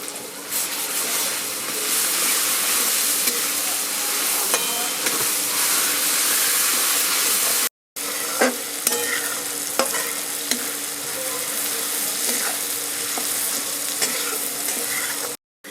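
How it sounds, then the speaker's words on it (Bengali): Onion and garlic paste frying and being stirred in a pan while making rajma tarka, a steady loud sizzle with scraping stir strokes, briefly cut off midway, no talk. "আমার রসুন আর পেঁয়াজটা একসঙ্গে ভাজা হয়ে গেছে"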